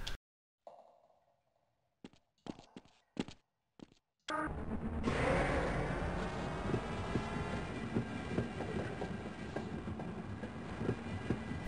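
A train rolls along rails in Half-Life, a steady, loud rumble with rattling clatter that starts abruptly after a few brief clicks and thumps in near silence.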